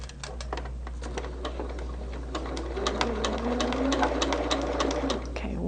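A sewing machine stitching quilt fabric runs steadily with a rapid mechanical ticking of the needle over a low motor hum, close and continuous for several seconds.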